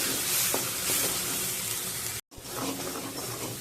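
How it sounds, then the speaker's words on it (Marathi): Brinjal is sautéed in a pan with ground masala paste, giving a loud, continuous sizzle and frying hiss with occasional stirring clinks. The sound breaks off briefly, then the sizzling resumes. "तो मसाला घ्यायचा आहे याच्यामध्ये मिक्स करायचा आणि याला चांगलं परतून घ्यायचं आहे"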